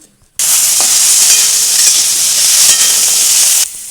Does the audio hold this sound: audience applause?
no